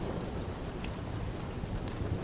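Steady rain falls outdoors, a dense, even hiss with low rumble running through the whole stretch, no voices over it.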